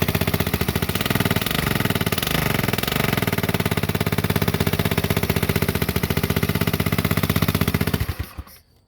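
An old scooter that sat unused, its fuel pump diaphragm at fault, runs after repair with a loud, rapid, close engine putter that holds steady for about eight seconds before cutting out.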